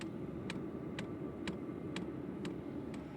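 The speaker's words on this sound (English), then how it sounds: "the pump is still making that really obnoxious ticking sound" Fuel pump of an Hcalory diesel heater ticking steadily about twice a second, a sharp regular click over a constant low rumble of the running heater, with no talking.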